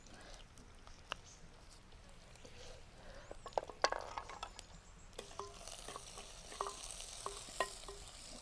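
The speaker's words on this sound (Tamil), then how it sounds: "கொஞ்சம் வதங்கட்டும் வெங்காயமும் பூண்டும்." Chopped onion and finely cut garlic frying in a pan in an outdoor wild kitchen, a quiet steady sizzle with occasional stirring clinks and clicks, no talk over it.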